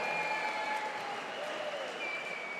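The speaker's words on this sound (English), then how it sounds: "how about a big round of applause for these two rising stars?" Crowd applause and cheering at a women's MMA event after a full fight between two rising fighters, a steady dense wash of clapping throughout with faint voices mixed in.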